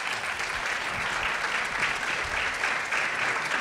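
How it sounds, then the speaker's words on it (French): A festival audience in Lisbon applauds actor Nuno Lopes after a film screening, a sustained, even round of clapping from a full hall that holds steady for the whole stretch. "que j'aimerais applaudir avec vous pour ce qu'il a fait dans ce film"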